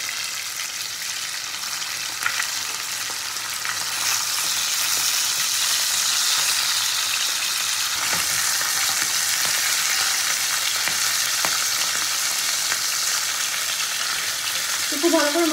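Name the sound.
pabda fish frying in oil in a kadai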